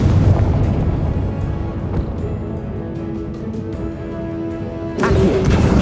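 A Confringo explosive spell is cast in Hogwarts Legacy, producing a loud, rumbling blast that lingers for several seconds before a second crashing burst lands near the end.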